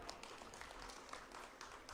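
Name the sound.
audience applause at a political rally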